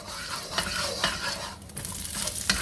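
Chopped onions stir-fry in a little oil in a well-seasoned wok, giving a steady, close sizzle broken by scraping, clattering stirs, with no voices.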